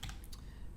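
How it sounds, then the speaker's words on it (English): A big, loud mechanical keyboard clacks with a few quick keystrokes, close and sharp over a low hum, in less than a second. "I've got a big old mechanical keyboard."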